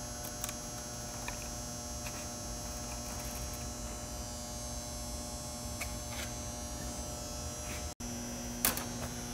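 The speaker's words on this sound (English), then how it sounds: "The machine will trace the edge of a template to recreate a part 1-to-1." Heck Industries Trace-a-Punch nibbling machine running with a steady, even mechanical buzz and hum throughout, broken by a brief dropout near the end.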